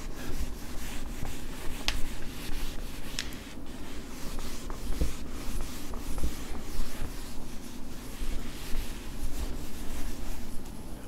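Steady rubbing on a board as a drawing is wiped away during a classroom lesson, a continuous scrubbing texture with no voice over it.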